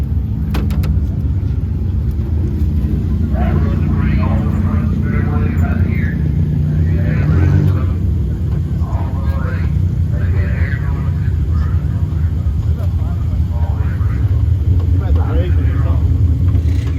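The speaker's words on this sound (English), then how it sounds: "The car's stumbling though, really, really bad. Like it's running out of fuel." A race car engine stumbling badly with a lean carburetor, as if starving for fuel, at a dirt-track speedway: a loud, continuous low rumble with an uneven, sputtering texture and faint indistinct voices over it.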